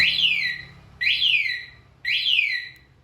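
Three identical rising-and-falling electronic chirps from a 2015 Kawasaki Ninja 250 motorcycle alarm's bike-finder function repeat about once per second, shrill and fairly close, over faint background hum.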